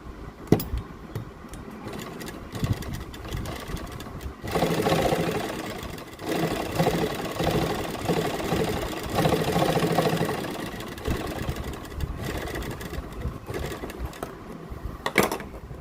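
Sewing machine stitching an invisible zip onto a kurti, with a few short stop-start bursts followed by a long, steady run of rapid mechanical whirring, then pausing.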